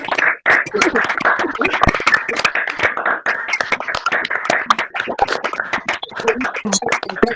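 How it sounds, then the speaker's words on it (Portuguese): Participants at the close of an online poetry event clap over their microphones, a busy patter of uneven sharp claps from several people, near and loud, with voices speaking through it. "Uma salva de palmas"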